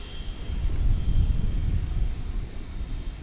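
A UPS MD-11 cargo jet takes off from the east side at DFW International Airport, heard as a distant low rumbling roar that swells slightly and then eases, with light wind noise and no talk.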